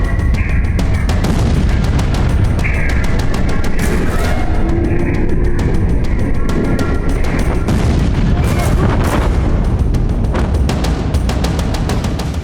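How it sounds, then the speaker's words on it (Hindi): A huge explosion in Lebanon rolls out as a loud, sustained roar of booming and crackling blasts, with rapid gunfire-like bursts continuing throughout. "धमाका कितने कैमरों में कैप्चर हुआ, पहले वो देखिए।"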